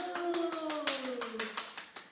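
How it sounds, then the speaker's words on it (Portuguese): Children clap hands in rhythm during a kids' church service, steady regular claps under sung or sustained voices. "Palmas para Jesus!"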